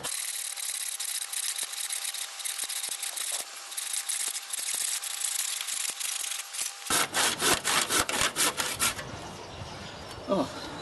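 A hand saw cuts through a wooden log held in a log holder, giving close rasping strokes that start dense and even, then turn into slower, louder separate pulls near the end.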